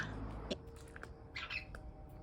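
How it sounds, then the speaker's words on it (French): Small pet birds squawk in a cage outdoors on a terrace, giving a few short, sharp, fairly faint calls and chirps. "on a des petits oiseaux qui viennent de sortir"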